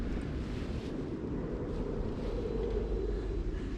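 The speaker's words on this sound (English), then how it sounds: "So you can always hear the sound of the wind" Wind blows steadily around a Greek Orthodox church in Fiji, a continuous low roaring rush with gusty buffeting close to the microphone and no voices.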